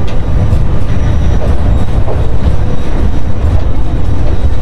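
A passenger train runs from Chattogram toward Bandarban, crossing near the Kalurghat river bridge, giving a loud continuous rumble of wheels and carriage with steady rattling throughout.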